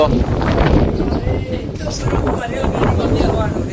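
Gusts of wind buffet the microphone with a rushing roar, rain-like hiss underneath, while a voice talks over it.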